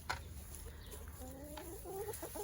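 Backyard hens cluck quietly in a few short, soft bursts near the end, with a low rumbling background and no talking.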